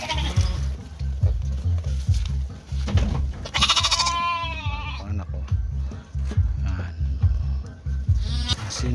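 Goats and sheep on a goat farm bleat repeatedly at close range, several wavering cries rising over a busy, continuous background of livestock noise and shuffling.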